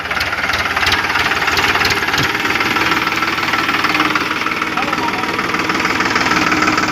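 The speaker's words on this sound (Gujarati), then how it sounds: "તમે જોઈ લો ટ્રેક્ટર આવી ગયું છે સાડા પડવા માટે." A tractor engine idles close by on a farm field being readied for chilli planting, with a loud, steady knocking chug throughout and a voice faintly underneath.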